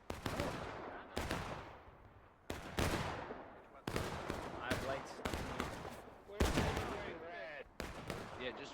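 Repeated rifle volleys crack out in a Manassas Campaign video game, roughly seven sharp massed shots at irregular intervals, each followed by a ringing decay, with faint voices between them.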